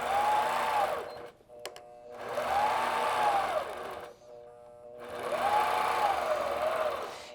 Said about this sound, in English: I need to stitch in this ditch, so I'm just going to do that now